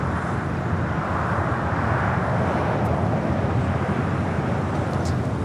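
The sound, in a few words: United 737 MAX 9 airliner taking off at LAX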